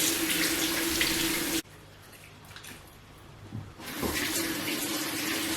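Tap water runs steadily into a sink while a face is rinsed, a loud broadband rush that stops for about two seconds, leaving quieter splashes and drips, then resumes full for the rest.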